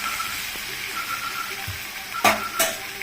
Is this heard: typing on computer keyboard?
no